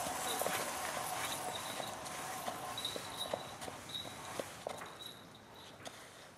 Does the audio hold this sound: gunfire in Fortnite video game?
no